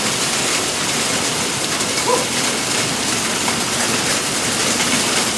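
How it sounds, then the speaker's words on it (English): Hail falls on the Appalachian Trail in May as a dense, continuous patter and hiss, loud and unbroken throughout with no voices. "now we're getting a hailstorm"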